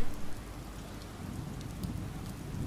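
Steady rain from the video game Oxenfree, a dense, even hiss of falling drops with low rumbling underneath, holding at a constant level without pauses.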